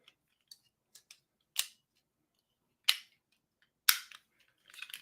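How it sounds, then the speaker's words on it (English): Plastic G1 Megatron transforming toy, a series of sharp, dry clicks and snaps spaced irregularly across a quiet background, close and fairly loud. "Transforming G1 Megatron right on screen."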